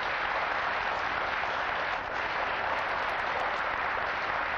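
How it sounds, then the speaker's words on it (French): Studio audience on a French TV show applauds continuously, a thick, even roar of many clapping hands that holds at steady loudness throughout without any break. "On peut vous applaudir."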